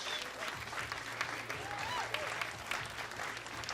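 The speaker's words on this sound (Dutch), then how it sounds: "Applaus." An audience at a live music contest final applauds in sustained, even clapping at moderate distance, with a voice speaking faintly over it.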